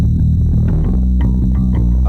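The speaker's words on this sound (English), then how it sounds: "So this is the bass sound dry." A dry Ibanez bass guitar with no effects plays a quick run of deep, loud, sustained notes, each pluck distinct and up front, with nothing else heard.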